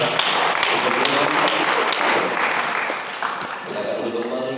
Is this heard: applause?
yes